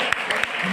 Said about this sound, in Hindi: एक बार तालियां बजा दो।